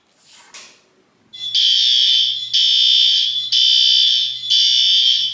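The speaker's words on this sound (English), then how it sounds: "we're gonna go ahead and hit the test button" A newly installed garage alarm panel, with its test button pressed, beeps four times in a steady rhythm: long, loud, high-pitched tones with short gaps, following a brief scraping rustle.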